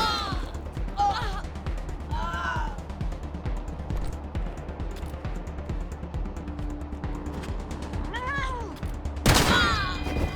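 Gunfire from the video game Wasteland 3 in a downtown Colorado Springs battle, a couple of sharp shots with a loud burst near the end, set among game effects and cat-like meows with a voice talking over it.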